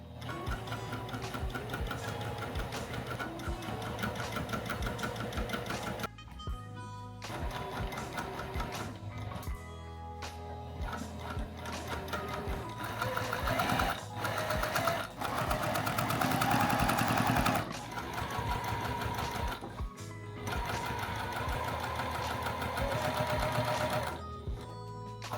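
A Juki TL 2000 QI sewing machine stitching a pair of jeans, a fast steady mechanical whir and tick that runs in long bursts with short pauses, close and alone.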